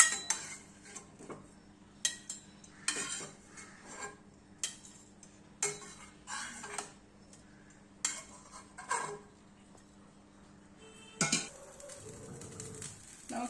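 Fried bitter gourd being scooped out of hot oil, with sharp clinks of a metal ladle against the pan coming in irregular bursts over a faint low simmer.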